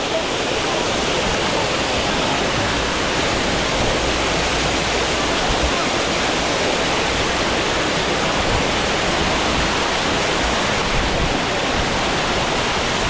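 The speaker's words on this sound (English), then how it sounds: "Look at all this water." Roaring cascade at Dunn's River Falls in Jamaica, a steady, loud, broadband rush of falling water that fills the whole stretch without letup.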